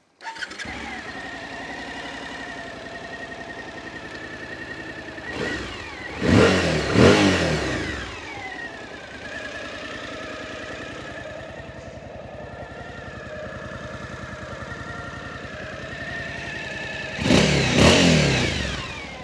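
A 2023 Suzuki V-Strom 1050DE adventure motorcycle engine idles steadily nearby, then is revved sharply twice, once early and once near the end, each burst rising and falling back to idle.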